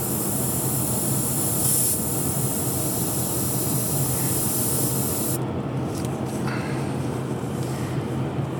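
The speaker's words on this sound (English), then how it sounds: "I'm going to try and do is spray just a little bit more gently here" An airbrush or spray can hisses paint onto a model ship, a loud, close, continuous spray over the hum of a running fan, the bright hiss cutting out partway through while the fan noise carries on.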